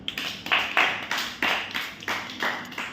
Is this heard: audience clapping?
yes